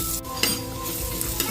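Garlic sizzles in melted butter in a pan for sopas, a dense close crackle with a couple of quick utensil scrapes and taps.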